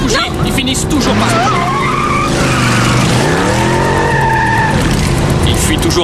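A car skids with sustained, wavering tire squeals that rise and fall over several seconds, loud and close, against a steady engine and road roar, with voices talking underneath.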